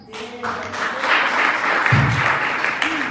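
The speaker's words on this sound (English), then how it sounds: "That's why you clap, guys." Dense audience applause fills a hall at a pan-African youth launch event in Ethiopia, swelling and holding steady with a few voices calling out through it.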